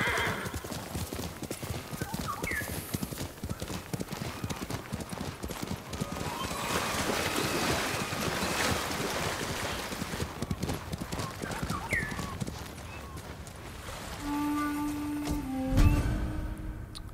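Hooves clip-clop in a quick, steady rhythm throughout as a horse gallops in Ghost of Tsushima, with the horse whinnying a couple of times and brief voices over the top.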